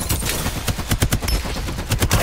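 Rapid automatic gunfire in the battle royale video game Farlight 84, a loud, dense stream of shots in quick rhythmic bursts throughout.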